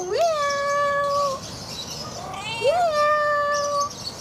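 A cat lets out two drawn-out, wavering meows, close and clear, with a short pause between them.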